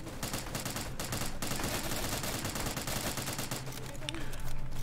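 Rapid bursts of gunfire from a World War II battle in the game Easy Red 2, with dense overlapping automatic and rifle shots crackling steadily throughout at close range, loud and continuous.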